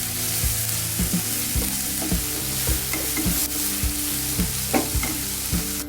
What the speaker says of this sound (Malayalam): ഇതെല്ലാം കൂടെ നല്ലപോലെ ഒന്ന് വഴറ്റണം.